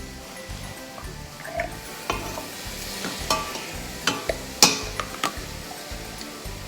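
Chopped onion cooks with ground beef in a pan, a soft sizzle running under repeated stirring and scraping clicks that grow sharper toward the end, with no clear voices.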